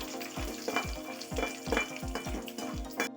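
Peanuts or cashews roast and fry in oil in a pan, a close sizzle punctuated by regular rhythmic stirring scrapes, about eight strokes over a few seconds, with no talking.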